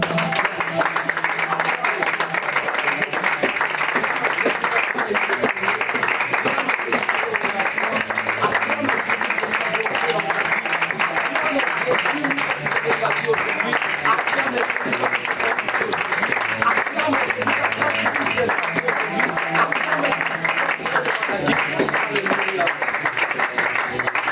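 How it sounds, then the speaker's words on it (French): A church congregation applauding to acclaim Jesus: dense, sustained clapping from a large crowd fills the whole span, mixed with voices and cheering at a constant loud level. "je veux que d'abord que tu acclames Jésus avec honneur"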